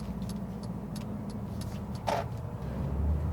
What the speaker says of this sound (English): Well, I see the cars are coming one after the other.